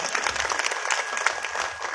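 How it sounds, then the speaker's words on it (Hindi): Audience applause at a Bhagwat Katha religious gathering in Sangam Vihar, New Delhi: a sustained burst of crowd clapping, fairly loud and continuous, with no speech over it. "जिन देवियों ने हमारे लिए इतना मेहनत की है, उनके लिए एक जोरदार ताली तो बनती है ना।"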